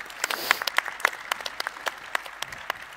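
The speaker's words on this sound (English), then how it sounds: "Another round of applause." Audience applause at a panel event on Cardano decentralised finance, a moderate crowd clapping steadily for a few seconds, thinning toward the end, close and fairly loud.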